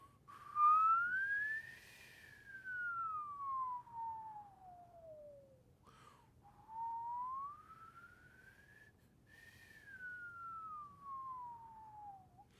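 A single whistler produces long, clear tones that glide smoothly in pitch, rising and falling in slow sweeps with short pauses between them, alone against quiet background.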